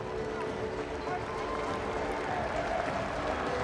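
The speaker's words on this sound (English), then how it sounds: "And the crowd, quite rightly, applauding Amelia Pasikala" Stadium crowd applauding at a women's rugby league Pacific Championship match between the Kiwi Ferns and Tonga, a steady, distant wash of clapping and crowd noise beneath commentary.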